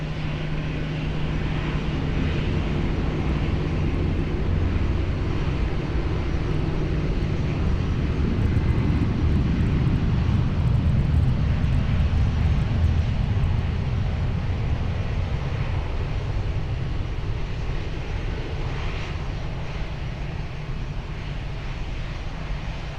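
A steady, loud jet roar fills the air as an airliner takes off at Lisbon Airport, rumbling for a long stretch and easing slightly toward the end, with no talk over it.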